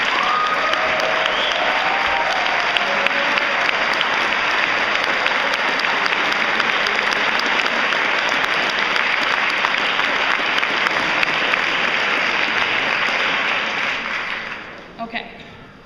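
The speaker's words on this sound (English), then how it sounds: "Can we give them a round of applause?" Sustained loud applause from conference delegates at a youth assembly, a dense wash of many clapping hands filling the hall before tapering off near the end.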